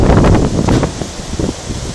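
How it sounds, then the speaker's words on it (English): Loud, gusty wind from a dusty windstorm on an outback farm in Australia roars and buffets close to the microphone, easing slightly after the first second with a rustling texture. "It's really, really windy."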